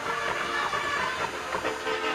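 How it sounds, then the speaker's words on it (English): A train horn sounds from nearby tracks as a sustained, tonal blast with rail rumble underneath. It holds steady and fairly loud throughout the short span, set outdoors beside a high school football game. "that was a train horn you heard. There were train tracks"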